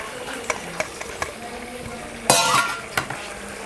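Chopped garlic and ginger dropped into a hot pan for a home-made biryani, a loud sizzling burst midway, with light stirring taps and clinks of a utensil before and after.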